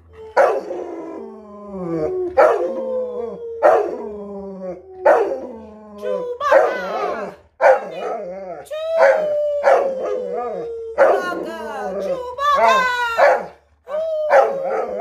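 A person howls along with a dog, the dog's long rising and falling howls repeating over about fifteen seconds, loud and close, with a human voice imitating the howl alongside.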